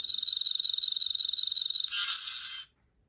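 Pulling the trigger on a Factory Entertainment Men in Black Noisy Cricket prop replica sets off a rapid pulsing electronic chirp that swells into a brief buzzing burst before cutting to silence, close and clear.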